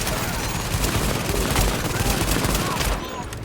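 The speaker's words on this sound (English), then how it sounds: "all the enemies are shooting at me" Enemies firing on the player in Tom Clancy's The Division, a dense continuous barrage of overlapping gunshots, loud and close, easing off slightly at the end.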